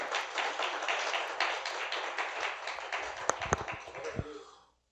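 A church congregation applauds at a sermon in a steady, dense burst of clapping that carries on for several seconds, with a few louder knocks near the end before fading out.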